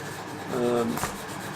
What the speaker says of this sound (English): they're carefully scored with a piece of 60 grit aluminium oxide tape